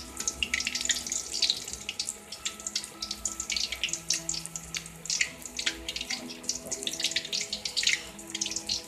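Potato and eggplant pakoras sizzling in hot oil as they are flipped, a dense, continuous crackle and hiss close by with no talk.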